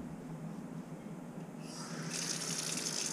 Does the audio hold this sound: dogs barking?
no